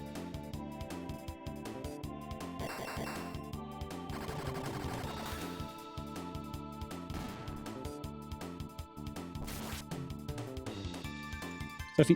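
A rapid-fire fist attack in the Chrono Trigger video game, a fast stuttering string of punchy hits layered over steady synthesized game music, ending with a few sharp final impacts.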